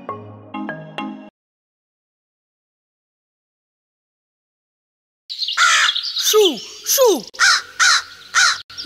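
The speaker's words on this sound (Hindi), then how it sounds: "लगता है ये कौवा भूखा है।" A crow caws repeatedly and loudly at close range, a string of harsh calls in quick rhythm after a short tune and a stretch of silence.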